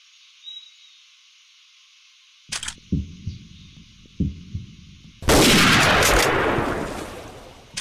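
Gunshot while out hunting, following a few quiet thumps and rustles: one loud, close blast with a long, fading rumble of echo across the open air.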